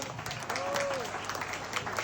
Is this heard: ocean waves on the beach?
no